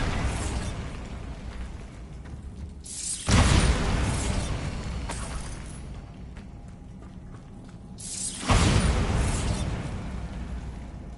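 Two heavy booming blasts from the Bombarda spell in Hogwarts Legacy, each a sudden loud burst followed by a rumbling decay, spaced several seconds apart over a noisy background.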